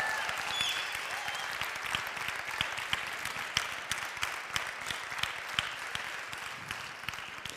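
Applause from a congregation during a Sunday church service at Lindakirkja, steady dense clapping filling the whole stretch at even loudness with no talk over it.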